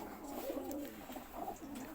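Pigeons coo softly in a pigeon loft, a low continuous murmur of overlapping calls at close range with no talking.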